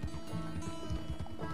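Horse hooves gallop in Red Dead Redemption 2, a steady rapid rhythm of thuds under continuous game ambience, close and moderately loud.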